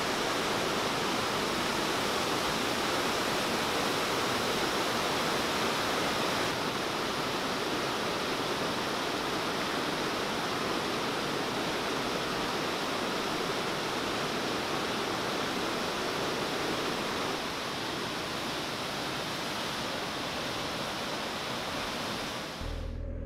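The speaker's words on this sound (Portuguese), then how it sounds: "Ora, cá está a cascata" A steady, full roar of falling water, constant and close throughout, with no voices.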